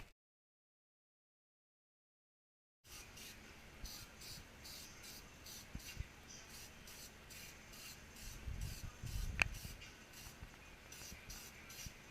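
Plasti Dip sprayed from an aerosol can onto a grill, a steady close hiss with faint rubbing and pulsing texture after a short silence at the start.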